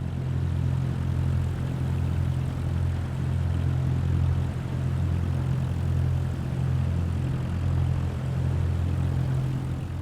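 A propeller airplane taxiing in Microsoft Flight Simulator 2024, with a steady droning engine hum, low and constant throughout, moderately loud with no voices.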